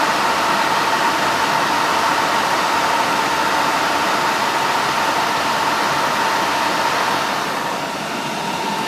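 Cooling fans in an HP DL580 G5 server roar at startup, a loud, steady rushing whine with a faint tonal hum that stays constant and eases off slightly at the very end.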